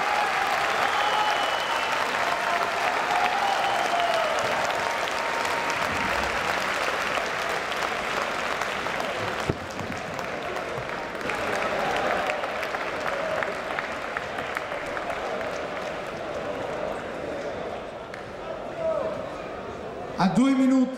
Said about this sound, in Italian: Un bel applauso per i due pugili.